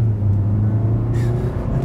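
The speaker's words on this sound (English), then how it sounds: "Let's go ahead and do an acceleration test, letting the car have full control, and let's see how quickly we can get the new 2020 Sonata here up to speed" A 2020 Hyundai Sonata accelerates at full throttle, giving a loud, steady engine drone with road rumble throughout and no speech.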